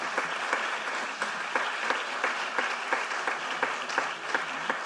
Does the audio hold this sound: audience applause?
yes